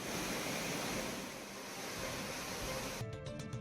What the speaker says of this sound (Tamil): ஒகேனக்கல் அருவிகளில் நீர் ஆர்ப்பரித்து கொட்டுகிறது